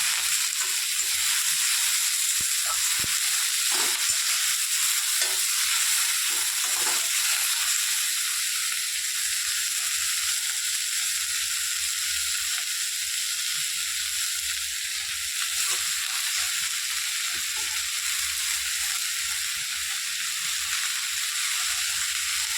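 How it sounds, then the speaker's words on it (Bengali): Leafy greens frying in a pan give off a continuous broad hiss of sizzling oil, with a few faint stirring knocks early on, steady and with no talking. "এবার শাকটা দিয়ে দেবো, অল্প অল্প করে দিয়ে নাড়তে দেবো।"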